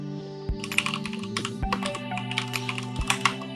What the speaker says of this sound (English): It feels really good typing on it.